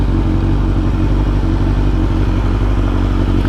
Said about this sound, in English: let's get a sound check of the exhaust warmed up